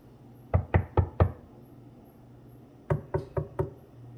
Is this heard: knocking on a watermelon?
yes